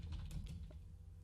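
Typing on a computer keyboard: a short run of quiet, close key clicks that soon fade out, with no voices over them.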